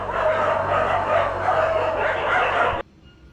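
A street dog barks and yips in a quick, loud run of calls close by, ending abruptly.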